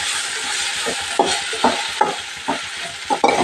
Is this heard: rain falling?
no